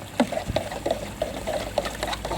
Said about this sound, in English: we're going to start putting this into the watering can